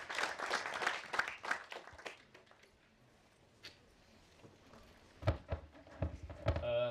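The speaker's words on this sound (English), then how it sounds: "Let's give him a round of applause, please." An audience at a corporate customer meeting claps for a speaker, a moderate burst of applause that fades to quiet before a few scattered claps and shuffling noises return.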